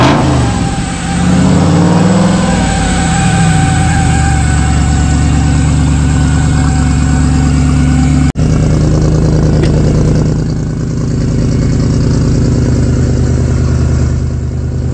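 A V8 engine in a Jeep Cherokee built for offroad racing starts up in a workshop and revs loudly and steadily, then the throttle drops briefly and it settles into a rough, throbbing idle close to the microphone.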